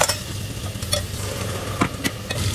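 Masala of meat spice, coriander and cumin powder frying in a pan with a splash of water for chicken curry, giving a steady close sizzle broken by a few spoon stirs and scrapes.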